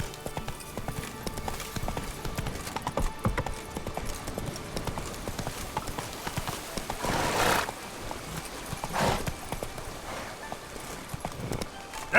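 Roach, a horse in The Witcher 3, gallops with a steady, close clip-clop of hooves running through the whole stretch, with a brief whinny-like burst partway and faint background game ambience.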